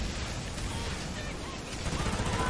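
Gunfire and grenade blasts from the shooter video game Omega-Hardcore crackle in a dense, continuous burst of rapid shots and thuds, loud and busy throughout.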